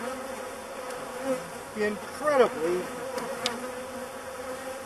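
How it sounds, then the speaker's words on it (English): Swarm of aggressive killer bees pouring from an opened hive, a constant close buzzing drone that fills the air, with a voice speaking briefly over it. "look at the number of bees in the air."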